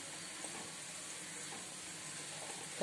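Herbal hair-oil ingredients sizzle in hot oil in a pan on a stove, a faint, steady frying hiss with no one speaking.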